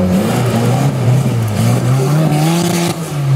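A green off-road 4x4 special climbs a hill during an off-road competition in Orava, its engine revving hard with rising and falling pitch as it pushes toward the last turn. The engine is loud and close throughout.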